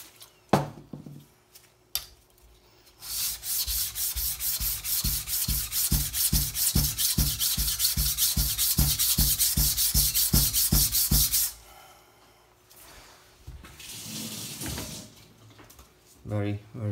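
A knife blade is drawn repeatedly across a Bester 220 extra coarse whetstone, producing about twenty rhythmic gritty scraping strokes close up, followed by quieter handling sounds and a few more scrapes.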